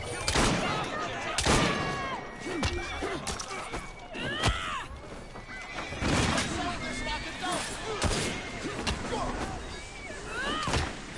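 Scattered video game gunfire, sharp cracks and bangs spaced irregularly over several seconds, fairly close, mixed with game chatter and shouting.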